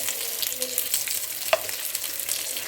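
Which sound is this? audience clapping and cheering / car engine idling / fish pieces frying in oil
fish pieces frying in oil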